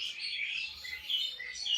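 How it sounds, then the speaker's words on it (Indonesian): A Bali myna gives a short run of bright, high chirps and whistles at moderate volume for under two seconds, with no one talking. "burung jalak Bali tadi ini."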